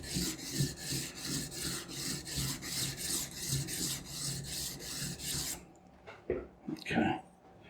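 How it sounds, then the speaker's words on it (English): A knife blade rasps back and forth on a Shapton coarse-grit whetstone in steady, rhythmic strokes, close and loud, before stopping to leave a few scattered clicks and handling sounds. "work out whether I want to start on a Shapton 110 grit stone or a Shapton 220 grit stone."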